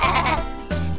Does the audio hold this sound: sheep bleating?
yes